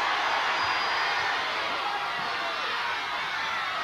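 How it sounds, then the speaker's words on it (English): A large outdoor crowd at a 1979 It's a Knockout contest in Great Yarmouth cheers and roars for Norwich in a steady, loud, unbroken wash of noise. "Do I hear Norwich cheers?"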